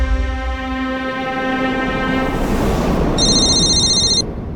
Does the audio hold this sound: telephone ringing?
yes